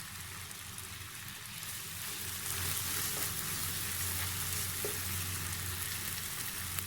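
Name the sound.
semolina halwa with dry fruits roasting in pan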